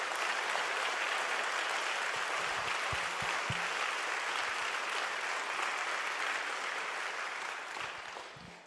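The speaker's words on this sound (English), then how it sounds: "Round of applause." Applause from a seminar audience at a Christian conference, a steady, even wash of clapping held for several seconds that thins slightly toward the end, with no talking over it.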